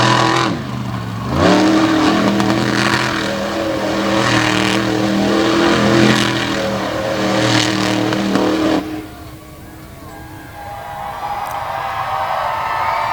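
A race vehicle engine at a racing event revs hard and loud in repeated surges, then abruptly cuts out and falls much quieter as the motor fails.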